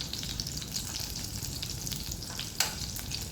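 Sliced pointed gourd (potol) frying in oil in a pan, a steady close sizzle and crackle throughout with one sharper spit of hot oil near the end.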